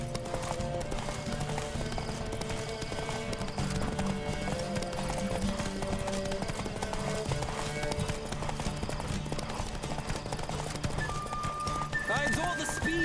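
Horse galloping in The Witcher 3 video game, rapid rhythmic clip-clop hoofbeats running continuously with occasional whinnies, mixed under background music and intermittent voices.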